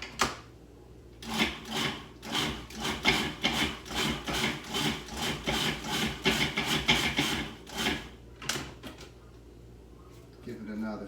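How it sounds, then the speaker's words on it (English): Rubber spatula scraping basil pesto around the bowl of a food processor, a steady series of close, rhythmic rasping strokes that continue for several seconds before easing off. "we're going to want to scrape it down a little bit with the spatula and push it down into the food processor"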